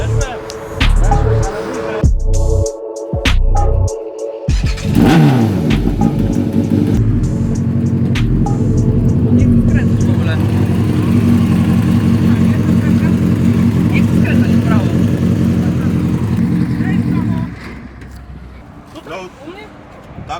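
A car engine revs and roars loudly during a test drive after a clutch adjustment, with a few short bursts followed by a sustained rising drone that cuts off near the end, and voices talking over it.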